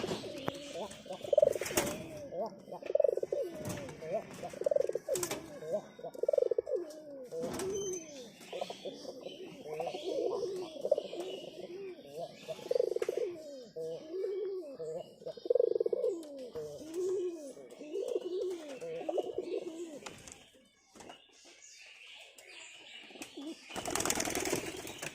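Domestic pigeons kept at home, released from their loft, cooing in repeated soft, throaty phrases close by, with occasional sharp bursts of wing flapping and a final flurry near the end.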